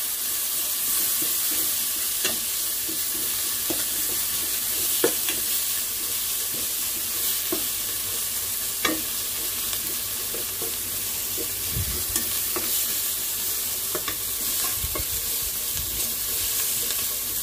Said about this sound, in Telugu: పచ్చి వాసన పోయేదాకా మనం కొంచెం ఫ్రై చేసుకోవాలి